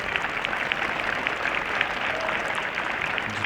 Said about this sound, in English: seeing a fantastic round of applause